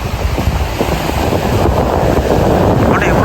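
Waves crash and rush continuously at Nilaveli beach, with heavy wind buffeting the microphone in a loud, unbroken roar and no pauses.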